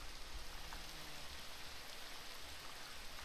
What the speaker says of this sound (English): it's currently raining